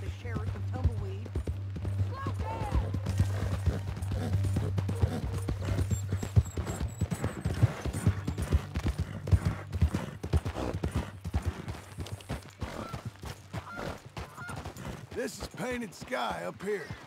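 Horse hooves clip-clopping at a gallop in Red Dead Redemption 2, a steady rapid beat close up under a low droning score, with a voice speaking over it and a brief whinny.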